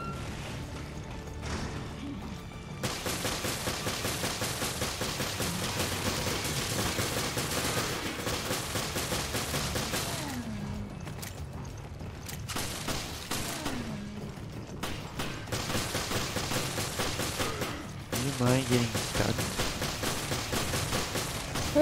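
Shotgun blasts and rapid gunfire ring out in Resident Evil Revelations Raid Mode, loud repeated bursts with impacts and crashes, some shots rising sharply over a busy game din.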